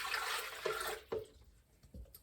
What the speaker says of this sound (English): we're gonna put the cup or pint of water,